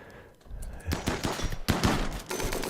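Rapid gunfire bursts from the RimWorld video game, a clatter of loud automatic-style shots that starts after a quiet opening and repeats in dense volleys, with a faint voice beneath.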